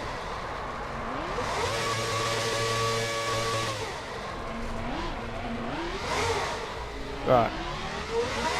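A drift car engine with a V8-like grunt revs up and down repeatedly with a deep, throaty growl and rising whines, moderately close, with a brief spoken word near the end.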